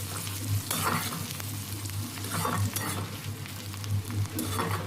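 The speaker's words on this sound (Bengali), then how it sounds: "পেঁয়াজটা নাড়াচাড়া করে হালকা ভেজে নিতে হবে" Chopped onions sizzling in hot oil while being stirred, a steady frying hiss broken by repeated scraping strokes of a spoon against the pan, close and alone.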